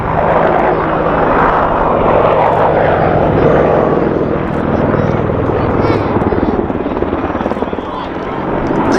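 An AgustaWestland Apache attack helicopter flies low at the Duxford Air Festival air show, its loud rotor chop and turbine roar steady and near.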